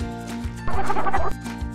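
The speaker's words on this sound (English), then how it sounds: "Oh, hen." A cartoon hen clucks in a children's counting song about apples on a tree, with a loud burst of squawking clucks over a steady, plucky backing tune.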